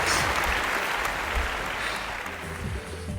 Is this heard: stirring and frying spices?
no